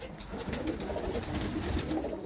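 Sheffield racing pigeons coo softly and repeatedly, low murmuring calls heard faintly and alone without talk.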